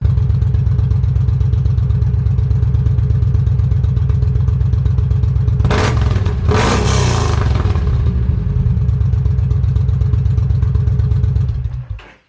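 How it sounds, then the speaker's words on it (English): A 2013 Yamaha V Star 950 fitted with a Cobra slip-on exhaust idles in a deep, loud, steady thumping rhythm close by, with two sharp throttle revs in the middle before the engine cuts off at the end. "Cobra exhaust, start and rev"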